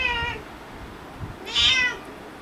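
Two clear cat meows, the first short and the second louder and drawn out, separated by a quiet pause.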